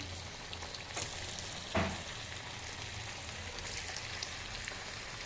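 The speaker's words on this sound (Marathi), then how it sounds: "मंद आचेवर तळून घेणे" Hurda balls fry in hot oil in a kadhai over a low flame, making a steady, even sizzle with a few faint clinks.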